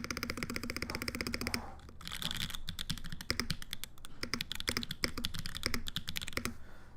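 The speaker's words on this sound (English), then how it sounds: "Let's give her a typing test." Brisk, steady typing on a newly built mechanical keyboard: dense, rapid key clicks heard up close and alone, with a brief pause partway through.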